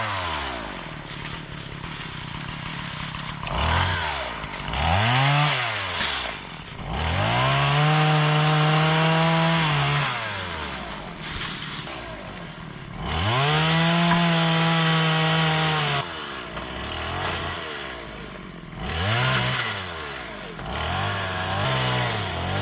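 Chainsaw fitted with a brand new chain cutting firewood, the engine revving up into repeated loud cuts and dropping back to idle between them, close by and steady throughout.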